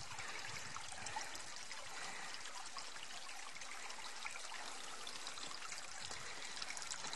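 Running water trickling through a small stream pool on a desert trail in the Superstition Mountains, Arizona, a steady broadband rush that stays fairly faint and even, heard alone without voices.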